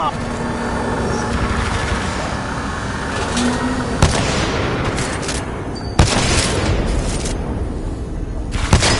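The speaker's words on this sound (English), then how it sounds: "Dropping bomb." Explosions from a dropped bomb in a Titanfall 2 campaign mission hit as sharp booms over a rumbling, battle-filled backdrop, with voices speaking through the action.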